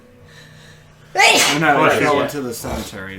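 A loud, close sneeze bursts out just after a quiet stretch, followed at once by overlapping speech from several people around a tabletop roleplaying game session.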